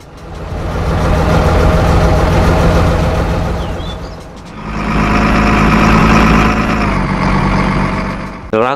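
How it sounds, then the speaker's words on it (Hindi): A truck engine idling in a truck simulator video game, a steady low rumbling drone that swells and eases in loudness over several seconds, heard alone without talk. "एक दफ़ा मैं आपको ट्रक का साउंड सुनाना चाहता हूँ"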